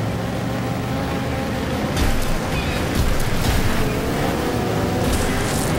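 A car engine revs in the racing game Wreckfest, a steady, loud, rough drone that swells slightly a couple of times.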